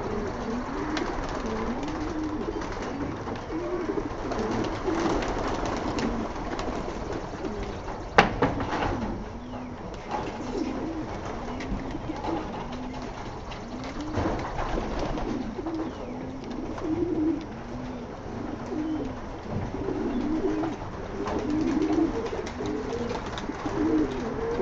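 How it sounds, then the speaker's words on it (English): A large flock of about 75 to 80 pigeons being let out of a building coo steadily in a repeating soft murmur, with a few sharp knocks and fluttering under a constant low background. "I'm going to leave this sit out here so you guys can watch the birds come out"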